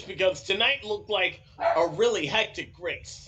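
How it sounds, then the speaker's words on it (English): A pet dog barks in the background, a few short yaps mixed under close, continuous talk during a remote interview about a stock car race. "my apologies for if you hear my dog barking at."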